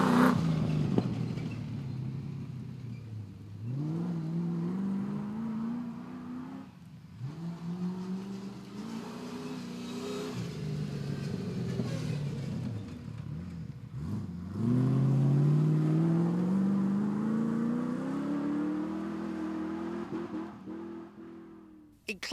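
A rally car from the Class 7 field accelerates hard up the Ebbw Valley hillclimb, its engine revving loudly and rising through the gears as it climbs, with brief lifts between pulls and one long, steadily rising run near the end.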